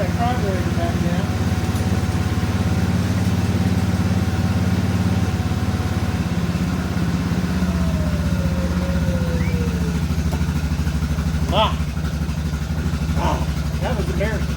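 A Yamaha Grizzly ATV engine running steadily after the fuel is switched on, a loud continuous mid-pitched idle with a slight pitch drift and a few sharp clicks, with someone talking over it.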